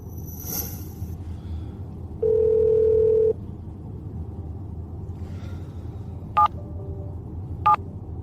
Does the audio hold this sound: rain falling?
no